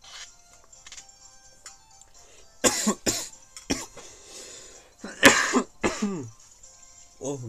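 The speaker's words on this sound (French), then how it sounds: "je suis en train de boire, j'ai envie de tousser d'un coup" Several harsh coughs and throat-clearing bursts come in irregular fits, close and loud, over faint background music.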